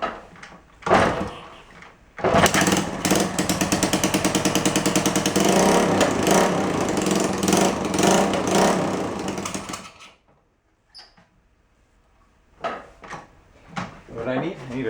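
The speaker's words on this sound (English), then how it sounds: "Still leaking exhaust, so you hear it." A 1972 Honda SL125 motorcycle with a leaking exhaust starts and runs for several seconds, a loud, rapid, popping engine putter up close that cuts off, followed by clicks and clunks of handling and a person talking.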